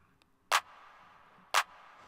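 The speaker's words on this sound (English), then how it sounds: "Simple clap, and then you gotta add a reverb to the clap." Two programmed claps with reverb added in FL Studio, spaced about a second apart, each a crisp hit trailing into a soft wash of reverb over a quiet backing tone, from a pop instrumental remake.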